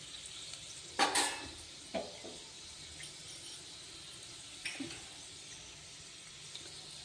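Chana dal and urad dal frying in hot oil in a home kitchen, a quiet steady sizzle with a few sharp spoon clinks and stirring scrapes scattered through.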